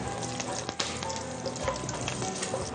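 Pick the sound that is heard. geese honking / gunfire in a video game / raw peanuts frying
raw peanuts frying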